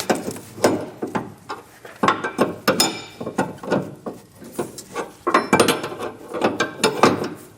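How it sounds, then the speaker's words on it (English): An 1 1/8-inch wrench ratchets a large nut tight on the bracket of a Firestone Ride-Rite rear air helper spring on a 2025 Chevrolet, giving close, loud repeated clicking strokes in uneven bursts with no talk. "I'll take an 1 1/8" wrench and get this tightened up."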